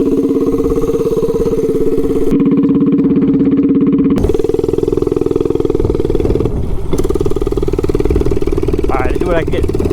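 An Oryxearth minibike engine with a slide carburetor, header pipe, stock cam and the governor removed runs loud and close, a steady buzzing drone that shifts pitch briefly as the throttle changes.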